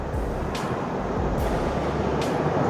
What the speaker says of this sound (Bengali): এই মুহূর্তে হাওড়া স্টেশন থেকে ট্রেন বেরিয়ে রওনা দিয়ে দিয়েছে